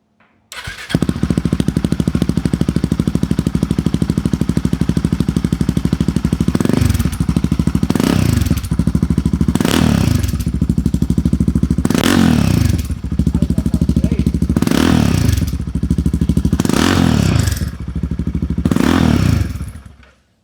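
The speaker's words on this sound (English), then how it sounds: "that's the sound check without the baffle." A Royal Enfield Himalayan 450 with a stainless steel exhaust, baffle removed, idles loudly and steadily, with several sharp throttle revs rising and falling in a regular rhythm, raw and unmuffled, close by.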